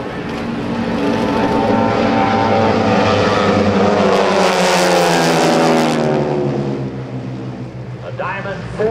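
Aeroshell Aerobatic Team propeller planes in diamond formation roaring past at the 2009 Dover AFB airshow, a loud engine drone rising then falling in pitch as they pass and fade, with a public-address voice over it.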